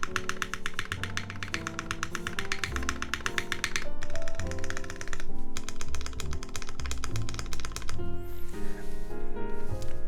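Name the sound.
typing on a mechanical keyboard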